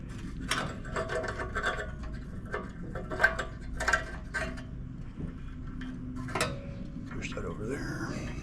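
A ratchet and socket clicks in short bursts while tightening the muffler on a Poulan riding mower with a Briggs and Stratton 14.5 hp engine, close up, with a steady background hum and brief mechanical clatter.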